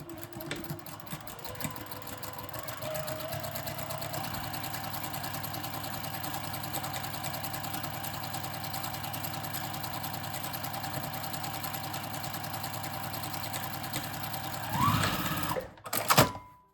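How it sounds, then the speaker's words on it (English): A sewing machine runs steadily as it stitches a French seam at a 5/8-inch seam allowance, a continuous close whirring hum that lasts about fifteen seconds, then slows and stops with a few brief clunks at the end. "I'm going to stitch this at 5/8 seam allowance"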